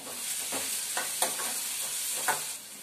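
A few curry leaves hit hot oil in a pan for Malvani-style French bean sabzi, a close, continuous sizzle with several crackling spits and stirring scrapes.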